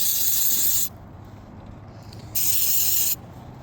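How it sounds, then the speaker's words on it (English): Brake and spark cleaner sprayed onto a small O-ring during an oil change on a 2007–2021 Toyota Sienna: two loud, steady aerosol hisses close by, the first about a second long and the second shorter, with a quiet pause between. "you just use a brake and spark cleaner."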